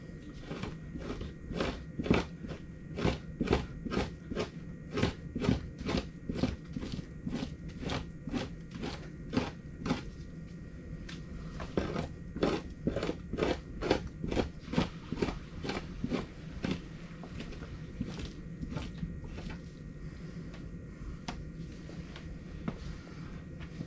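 A knife cuts a beaver pelt down the middle, giving a long series of close, rapid crackling snips and tearing crunches in an irregular rhythm, with no talking.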